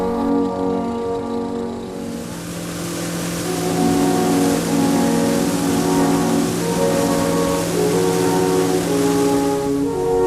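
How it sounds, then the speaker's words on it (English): A taxi car arrives during an evening trip in Switzerland, heard as a steady engine drone that rises and swells louder midway, with layered tonal hum over a rushing background and no speech. "Why, look, our taxi is here already."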